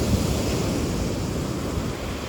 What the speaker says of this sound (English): Ocean is definitely speaking today.